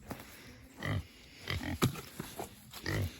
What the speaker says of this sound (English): Bad little piggies.